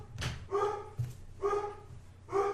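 A dog barks three times at a steady, slow cadence, each bark a clear, mid-pitched woof with a short gap between, heard fairly close with low background rumble and no talking.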